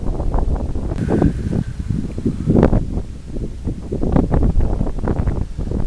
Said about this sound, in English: It was actually so windy that day